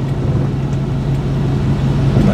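Steady low engine drone and road rumble from inside a moving Chevrolet K5 Blazer, a constant near hum with no talking.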